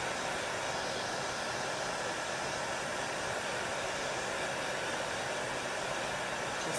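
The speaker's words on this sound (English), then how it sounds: "Hair dryer just makes it go quick, you guys." Hair dryer blowing steadily to dry chalk paste on a Peter Cotton Tail craft, a continuous even whooshing hum with no pauses.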